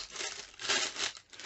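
Clear plastic bag crinkling and tearing open around a skincare package, a dense close-up rustle lasting a second and a half with no voices.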